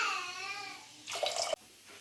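Water is poured into a bowl of curd rice in a kitchen, a short splashing burst of about half a second that follows a quieter stretch and then stops abruptly.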